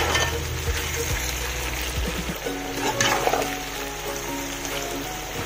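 Carrots frying in a pot for Tajik plov, a steady dense sizzle with occasional stirring scrapes and clatter, close and continuous with no talk.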